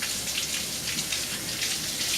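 Tap water runs steadily as hands are quickly rinsed off in a home kitchen during cookie baking, a continuous close hiss and splatter with no voices.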